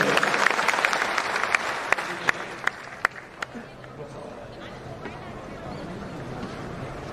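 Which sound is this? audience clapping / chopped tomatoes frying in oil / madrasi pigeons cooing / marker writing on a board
audience clapping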